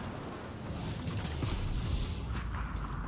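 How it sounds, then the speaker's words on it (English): Enemy battleship gunfire rumbles in a naval video game, a dense low booming roar with a rushing wash of noise, steady and loud for a few seconds with no talking. "Whoops, somebody's shooting at me."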